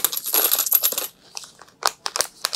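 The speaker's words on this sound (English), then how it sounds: "Really cool coins." Metal coins from a deluxe board game edition clink and jingle up close: a dense cluster of bright rattling at first, then several separate sharp chinks as the pieces are handled, with no voices.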